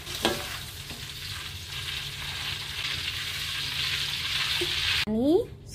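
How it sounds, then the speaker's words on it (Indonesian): Chili, garlic and kencur frying in oil for pecel sauce, a dense, steady sizzle with occasional stirring scrapes, close and fairly loud, ending with a brief clatter. "Ini semua bahan-bahan buat membuat pecel sudah saya goreng semua ya"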